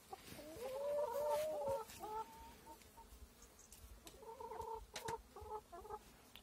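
Hens cluck and squawk in short agitated bursts while pecking at a rooster, close by, with a brief lull before another flurry of fowl calls.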